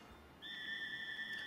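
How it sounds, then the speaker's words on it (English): A steady two-tone whistle blast in a video game starts abruptly partway through and holds level to the end, fairly close and clear with no talk over it. "Oh, you blew that whistle."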